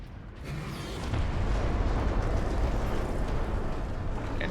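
Projectile artillery fire in Warhammer 40K Space Marine, a heavy rumbling barrage that swells after a quieter start into a sustained, dense roar of booms and blasts with no voices over it.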